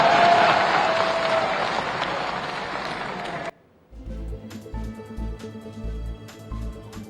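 A crowd at a political gathering breaks into loud, dense applause that carries on steadily, then cuts off abruptly halfway through, giving way to quieter background sound with low thumps.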